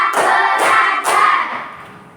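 Schoolchildren in a classroom perform a rhythmic group clap, three distinct loud bursts spaced roughly half a second apart, then a fading tail, no voices.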